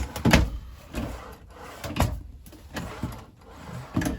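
Drawer in a 2022 RPOD 190 travel trailer opened and shut repeatedly, giving a series of moderate knocks and sliding thuds about once a second, close by with no talk.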